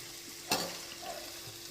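Vegetables for noodles frying in a pan, a low steady sizzle with one sharp scrape of a spatula, then quieter stirring.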